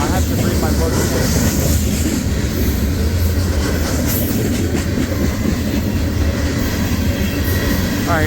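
A freight train rolls past with its rear DPU locomotive, a loud, close, continuous rumble of wheels and clanking cars with scattered squeals over the rails.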